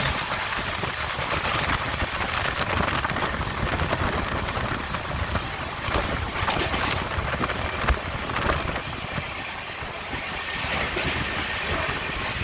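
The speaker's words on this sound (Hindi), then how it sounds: "क्या ज़बरदस्त बारिश हो रही है।" Heavy monsoon rain pours down at a quiet Indian railway station, a dense, unbroken roaring hiss that holds steady throughout.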